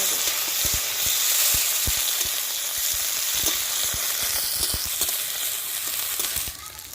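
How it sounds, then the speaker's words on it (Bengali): Chopped onions frying in oil with bay leaves for a village-style greens and rohu fish roe dish, a loud continuous sizzle close by with regular light knocks from stirring. "কিছুটা পেঁয়াজ কেটে রেখেছিলাম ওগুলো দিয়ে দিলাম"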